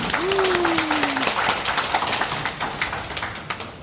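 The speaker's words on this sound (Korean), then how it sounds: "여러분 큰 박수 부탁드립니다" An audience applauds at a smartphone video-making lecture for parish publicity staff held by the Seoul archdiocese; a dense patter of claps runs steadily, then thins into scattered taps near the end.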